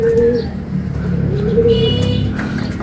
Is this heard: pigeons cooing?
yes